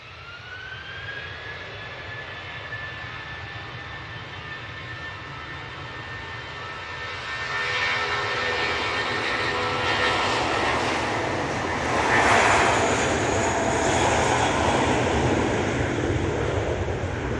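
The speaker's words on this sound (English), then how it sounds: "Oh, Lauda's going now." A Lauda jet airliner departs Manchester Airport, its engine whine and steady roar building and swelling louder as it takes off, with no talk over it.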